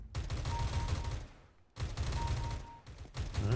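Dense bursts of gunfire in CS:GO, two long rattling volleys broken by a brief pause, with more shots starting again at the end.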